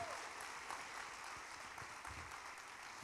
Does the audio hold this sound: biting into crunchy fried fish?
no